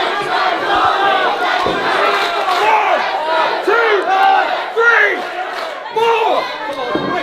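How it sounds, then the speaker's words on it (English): A professional wrestling crowd at a live match chants and shouts loudly in rhythmic, rising swells, a dense near roar of many voices cheering for one wrestler. "The crowd desperately trying to rally Tommy."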